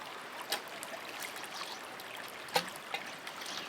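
Pumped water runs steadily into a bucket sieve on a mini high banker used for gold prospecting, a soft continuous trickle and splash with a few sharper clicks and knocks.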